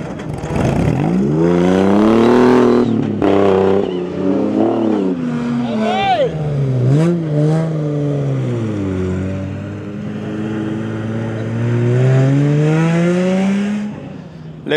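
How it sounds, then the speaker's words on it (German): Dakar 2025 rally cars rev in the desert at a mass start, four cars released together, with engine pitch climbing and falling in long, loud sweeps that run the full length without a break. "für Frank und Friede ist ein Massenstart, immer 4 Autos"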